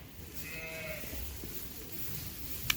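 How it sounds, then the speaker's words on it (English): Sheep on a farm give a couple of short, fairly faint bleats at some distance over steady outdoor ambience, followed by a brief sharp noise near the end. "Oh, Scotty, those are some new sheep, aren't they?"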